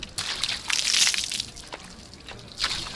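Water from a bucket is sluiced over a car to rinse it clean, a splashing rush that swells and fades in a few close, moderately loud bursts of sloshing and dripping.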